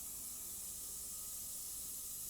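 Hairspray hissing steadily from an aerosol can onto model railway scenery, a continuous close spray with no talk over it.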